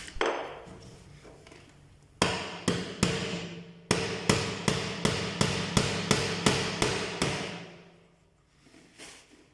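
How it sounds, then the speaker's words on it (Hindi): Hammer driving nails into a wooden table under repair, a dozen sharp close strikes, first spaced and then in a steady rapid rhythm, with each blow ringing briefly. "मलिक साहब उन्हें पूरी किल ठोक के सब मजबूत कर देता है।"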